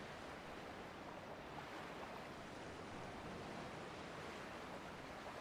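Waves wash steadily in the sea of the game Dear Esther, a soft, continuous surf hiss with no break and no voices.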